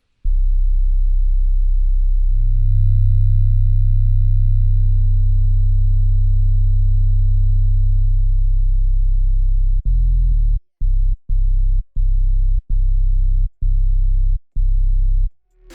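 A deep, pure sub bass synth tone made in Serum hums steadily and loudly, then breaks into short repeated pulses with brief gaps near the end.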